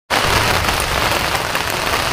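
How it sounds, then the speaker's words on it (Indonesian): Rain falling in a forest, an abrupt start into a dense, loud, steady hiss of drops on leaves and ground, with no voices. "ini karena cuaca udah mulai hujan"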